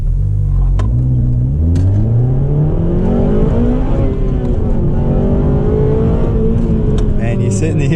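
A 2009 Honda Civic Type R FN2 engine revs hard through VTEC, its pitch climbing in a loud, sustained rising drone heard from inside the car, with a gear change partway through and a voice faintly underneath.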